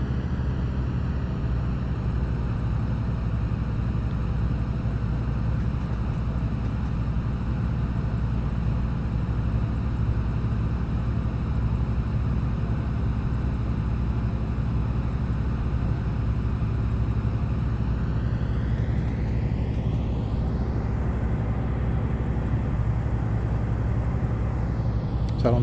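A Class 156 DMU diesel engine in Train Simulator 2018 on the Great Western Main Line, a steady low droning rumble held throughout, with a rising whine near the end.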